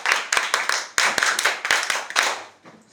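A classroom of pupils claps for a classmate, a burst of quick, uneven hand claps that rises and falls in waves before trailing off near the end.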